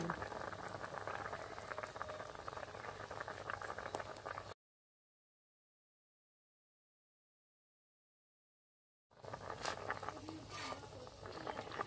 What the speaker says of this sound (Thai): ข้าวโพดต้ม ในกระทะ